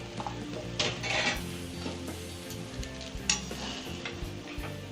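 Pre-fried eggs tumble into a pan and get stirred, with repeated metallic clinks and scrapes of a utensil on cookware over a low steady background, fairly close and busy throughout.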